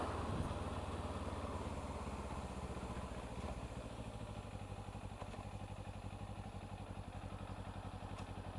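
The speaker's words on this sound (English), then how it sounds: "And it's switched into electric mode, pulls away, and then back into petrol mode." A Kawasaki Z7 Hybrid motorcycle pulls away from low speed, its petrol engine throbbing in a steady, even mechanical rhythm close by, with no voices.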